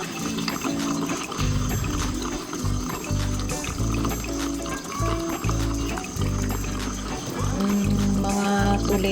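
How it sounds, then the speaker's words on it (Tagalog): Water pours steadily into a cooking pot of Filipino boiled beef soup (nilagang baka), a continuous liquid fill mixed with kitchen clatter and background noise for several seconds. "Lagyan din natin ng tubig."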